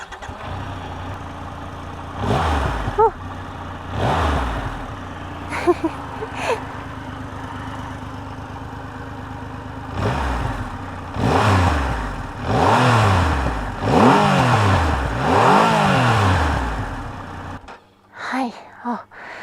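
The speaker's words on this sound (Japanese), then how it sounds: "2500cc って相当すごいエンジン音なのかなと思いきや、意外と優しいエンジン音なんですね" A Triumph Rocket 3 GT's 2500cc motorcycle engine idles with a steady, fairly gentle low throb, then revs up several times in rising and falling swells, fairly close and loud.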